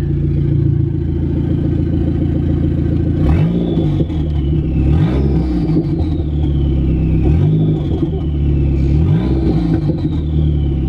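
A Dodge SRT-4 engine with an open downpipe idles loudly, then revs sharply about four times. Each blip rises quickly and falls back to a rumbling, clattery idle, close by and with no voices.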